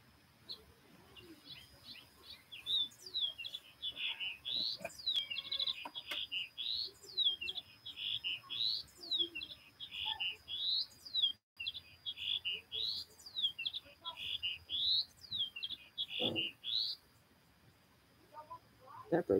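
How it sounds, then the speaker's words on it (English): A bird chirps loudly outdoors in a repeated run of sharp, high, rapid trills that come in bursts with short pauses, close by and dominant over faint background noise. "That bird sounds like it's going to explode."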